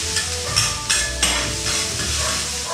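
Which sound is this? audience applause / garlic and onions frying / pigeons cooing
garlic and onions frying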